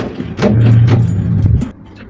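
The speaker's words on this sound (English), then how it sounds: "So if we try with the key, then it's working." A key works a cylindrical door knob lock on a newly installed knob, giving a short burst of close metallic jangling and clicking over about a second and a half, with no talking.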